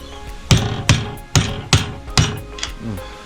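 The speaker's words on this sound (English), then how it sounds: "There's always a hammer around here somewhere." Hammer blows against a stuck part on a Ford EL XR6 Turbo during a roadside breakdown repair, five sharp metallic strikes in an uneven rhythm, loud and close, with a softer knock at the end.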